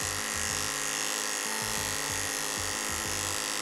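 Electric grooming clipper buzzing steadily while smoothing a schnauzer's head and beard, a close continuous hum with slight pulsing as the blades move through the coat, no talking.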